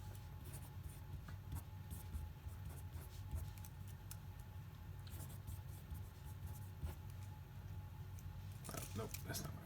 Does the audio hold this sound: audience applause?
no